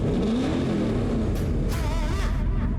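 A powerful mid-engine Dodge Charger muscle car engine rumbles loudly and revs, its pitch sweeping up and down in bursts with a deep, throaty growl.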